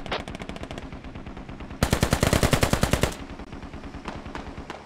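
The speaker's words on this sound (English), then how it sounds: "MG takes out Bybee. Takes out Pipe Funk" Sustained bursts of machine gun fire in a tactical squad shooter, loud and close, with rapid evenly spaced shots that swell into a denser, louder volley mid-clip before easing back to steady firing.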